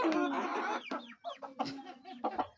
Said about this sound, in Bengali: বাবা কতগুলো মুরগি খাবার খাচ্ছে